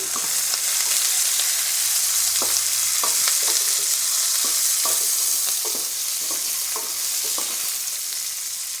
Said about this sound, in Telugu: తర్వాత కరివేపాకు వేసి ఇవి వేగనివ్వాలి.